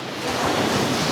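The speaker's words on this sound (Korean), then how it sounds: "그 파도 부서지는 게 너무 멋있는 것 같아." Ocean surf breaking on the shore at Puka Beach, Boracay, a steady, loud wash of waves with some wind noise on the microphone and no voices.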